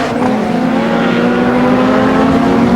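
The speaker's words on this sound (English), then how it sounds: "sprints through in that amazing Vauxhall Astra of his, 1600cc, 150 horsepower" A 1600cc, 150-horsepower Vauxhall Astra rallycross car races past at Brands Hatch. The engine note is loud, steady and high-revving, close by, with no talk.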